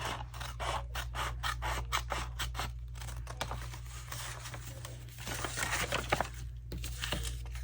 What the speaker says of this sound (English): We need our scissors just to trim anything extra here at the bottom.